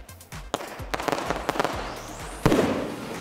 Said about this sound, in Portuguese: Fogos nas sociais do Arruda.